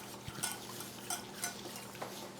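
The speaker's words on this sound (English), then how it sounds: "Then you add about 13 grams of flour and you mix that together." Flour whisked into water and milk in a bowl, a soft continuous swishing with light rhythmic clinks of the utensil against the sides, quiet and close with no voices.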